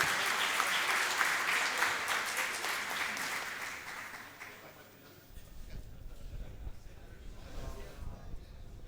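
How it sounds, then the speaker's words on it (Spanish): Applause from the audience at a panel discussion on regionalization closes the event, dense clapping fading out over about five seconds before quieter room sounds and murmurs take over. "Les pido un gran aplauso"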